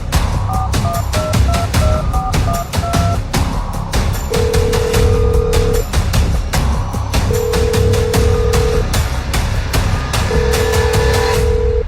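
Keypad tones beep in quick succession, then a phone rings in three long, evenly spaced bursts over a busy background of clicks and hum.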